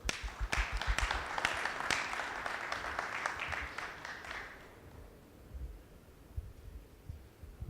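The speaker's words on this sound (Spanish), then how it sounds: "Un fuerte aplauso, por favor." An audience at an electricity industry conference in Guadalajara applauds an engineer, steady clapping for about four and a half seconds that fades into quiet room hum.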